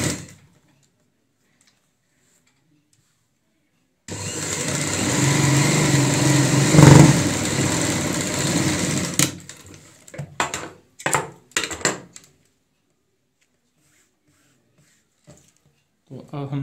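A sewing machine motor whirs in one continuous run of about five seconds as it stitches along a purse zip, followed by a few short clicks and bursts near the microphone.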